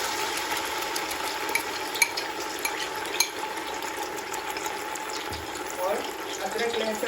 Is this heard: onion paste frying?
yes